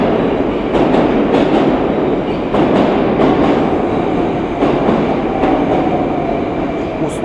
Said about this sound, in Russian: Первый поезд.